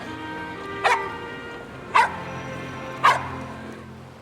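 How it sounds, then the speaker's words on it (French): Three short, evenly spaced dog barks ring out over a steady outdoor background hum, with no talking. "Je parle au chien."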